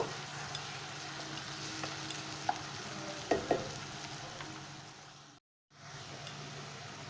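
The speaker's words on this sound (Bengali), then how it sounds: "এবার একটু তেলের সঙ্গে এটা ভালো করে কষিয়ে নেব" Green chili paste frying in oil for Golbari-style kosha mangsho, a steady close sizzle with a few scraping stirs and a brief dropout near the end.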